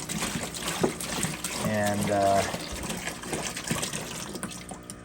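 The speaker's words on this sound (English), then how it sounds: "I'm just going to use some of this water to clean the intake filter." Water splashes and trickles as it is poured over a dirty aquarium intake filter to rinse it, a steady gushing pour under a man's brief speech.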